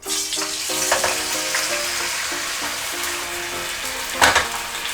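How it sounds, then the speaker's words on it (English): Bulgogi beef hitting a heated pan of vegetable oil at medium-high heat, a loud continuous sizzle and crackle with a few louder spits and bursts near the end. "Once the pan is heated, add your bulgogi."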